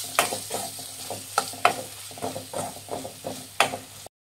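Mutton sukka with chilli powder and spices is stirred in a frying pan, with repeated scraping strokes of a spoon against the pan over a soft sizzle, close and fairly loud in an uneven rhythm.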